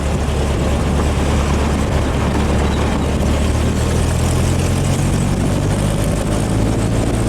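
A car engine fitted with Weber/Dellorto carburetors and enlarged accelerator pumps stumbles under acceleration, a loud, close, continuous low engine drone with road noise inside the moving car, no talk.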